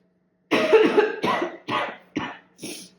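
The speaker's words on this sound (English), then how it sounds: "And then I'll cough anyway." A run of five close, loud coughs in quick succession after a brief silence, each burst shorter than the last.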